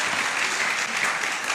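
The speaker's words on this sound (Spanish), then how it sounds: "Un aplauso para ellos, transmitiendo en vivo, fotografía, todos ellos." Congregation at a church service applauding, dense continuous clapping from many hands filling the space, fairly loud and heard without talk.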